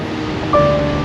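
Ocean waves and wind on the Newquay coast in Cornwall, a loud, steady broadband roar of surf and gusting air with a brief tonal whistle partway through.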